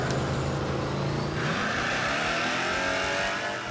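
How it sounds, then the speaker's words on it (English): A drag racing car on a test run roars loudly, its engine note climbing sharply partway through as it accelerates hard, continuous and close. "Before making a bet, Easy Money checks the track for a test run"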